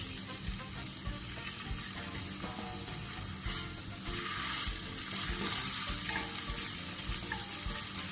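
Garlic and ginger fry in a pan with a steady, loud sizzle that swells partway through, alongside stirring scrapes and a running kitchen exhaust fan.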